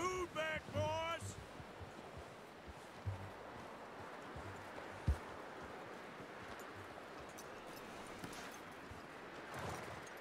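Horse hooves clip-clopping in Red Dead Redemption 2, a brief run of hoofbeats and a few scattered steps, faint and low behind game ambience and bits of talking.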